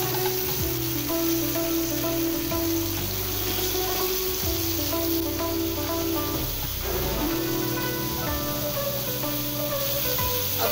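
A beef burger patty fries in a pan over a medium flame, giving a continuous, fairly loud sizzle with a steady tonal hum running underneath.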